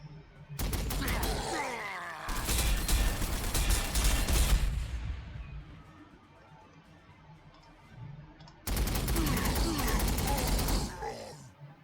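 Gunfire in the Warhammer 40,000: Sanctus Reach strategy game, with two long loud volleys of rattling shots and booms separated by a quieter lull.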